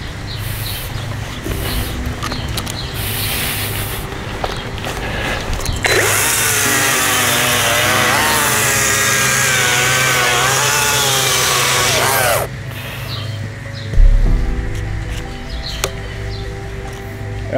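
A powerful cordless chainsaw with a 30 cm bar bites into a tree trunk, loud and close, the motor idling before it surges into a sustained cutting whine for several seconds, then drops back with a sharp knock.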